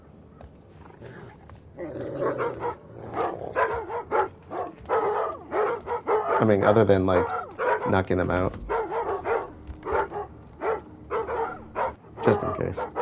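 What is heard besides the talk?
dogs barking in the video game Thief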